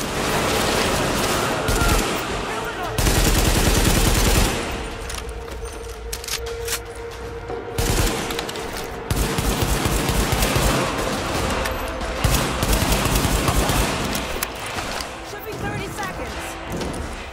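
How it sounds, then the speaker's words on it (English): Rapid bursts of automatic gunfire in The Division's Lincoln Tunnel area, loud volleys repeating in clusters with short pauses, mixed with impacts and clatter while a voice talks over the fighting. "Wait, who's shooting?"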